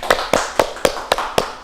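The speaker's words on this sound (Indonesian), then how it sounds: "Boleh tepuk tangan untuk Mbak Fatima dan Mbak Dela." A few people clapping for students in a classroom, a sparse, steady series of about seven sharp, close claps spaced evenly, with no speech.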